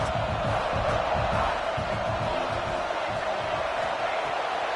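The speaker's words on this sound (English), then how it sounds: "how nice is it to have the home crowd going absolutely bananas?" A home stadium crowd roars in the NCAA 26 college football game between South Carolina and Alabama, a dense, continuous wall of cheering and yelling that holds steady throughout, with voices blended in beneath.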